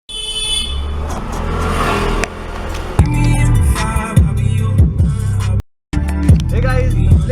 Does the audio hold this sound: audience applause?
no